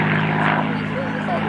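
Supermarine Spitfire Mk XI photo reconnaissance aircraft of 16 Squadron making a low display pass at an air show, a loud, steady propeller engine roar held for the whole short stretch.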